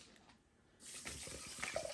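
Water from a tap runs into a cooking pot, measured out for boiling rice, starting after a brief quiet moment and continuing as a steady close splashing pour.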